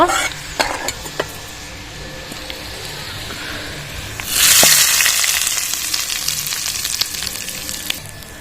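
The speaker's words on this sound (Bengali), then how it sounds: "ভালো করে রসুন আর শুকনো লঙ্কাটা ভেজে নিতে হবে" Garlic and dry red chillies frying in hot oil, a loud steady sizzle that flares up partway through, with scattered clicks of a utensil stirring the pan.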